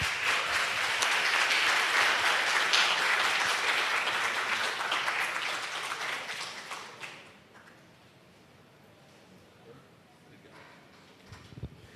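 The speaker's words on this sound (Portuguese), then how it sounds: "Palmas para a gente." Audience applause at the Folkcom 2025 honorees ceremony, a loud dense crowd clapping for about seven seconds, then stopping abruptly and leaving a quiet room with faint scattered sounds.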